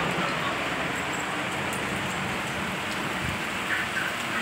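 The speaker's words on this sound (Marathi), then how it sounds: "बघा पाऊस खूप चालू आहे" Heavy rain falls in a dense, constant wash of noise, loud and close, with no voices and no breaks.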